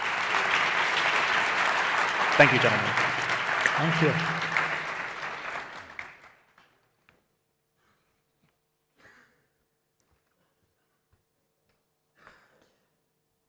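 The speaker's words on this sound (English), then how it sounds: "Let's give our guests a round of applause, please." Audience applause for panel guests at an energy ministers' discussion, a full wash of clapping for about six seconds that fades out abruptly, with someone speaking briefly over it and near silence after.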